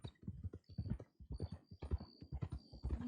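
Horse hooves clip-clop in a steady rhythmic gait while riding in the Western game WildRP, close and clear with a faint high ringing tone in the background.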